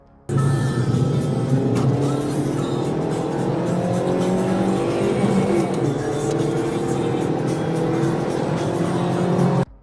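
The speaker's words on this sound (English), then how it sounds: "The chase cut across intersections at lethal speeds, pedestrians scrambling to the sidewalks, horns blaring in fury." A supercar speeds through city intersections during a police chase, a loud continuous engine roar with shifting revs and tire noise lasting nearly ten seconds.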